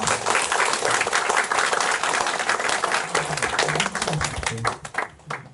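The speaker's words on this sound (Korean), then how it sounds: "박수 부탁드립니다." Audience applause at a Buddhist studies summer workshop after a talk on Haeinsa monastic college education. Full, dense clapping from a large group, loud and sustained, thinning slightly near the end, with no voices.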